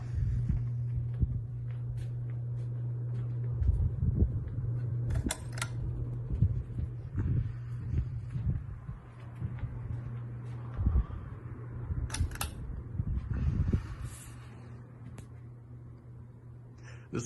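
Three electric fans running together on their medium setting in a large room, a steady low hum and whir holding throughout with scattered clicks and thumps over it.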